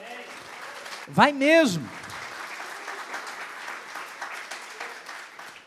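A church congregation applauds during a worship service, a broad wash of clapping running throughout while a voice briefly sings or calls out over it near the start.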